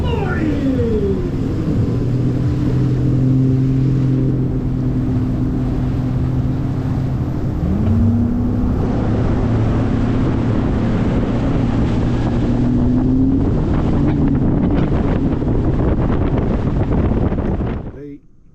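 Bass boat outboard engine running at a fishing tournament on Toledo Bend, a steady loud drone whose pitch shifts and rises midway under heavy wind noise, fading out at the end.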